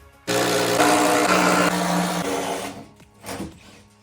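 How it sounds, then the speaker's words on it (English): A power drill drilling holes in wood whirs loudly and steadily for a couple of seconds, then winds down, followed by shorter bursts of mechanical noise. "I think we're gonna have to start drilling some more holes"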